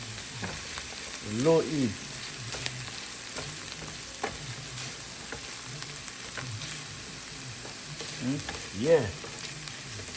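Vegetables for brown fried rice stir frying in a pan on low heat, a soft steady sizzle with occasional stirring clatter and a few brief louder scrapes, a short spoken remark over it.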